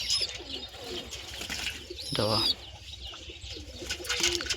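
Pigeons coo softly at close range in a yard with potted plants, low murmuring calls repeating amid other bird chirps, while someone talks over them.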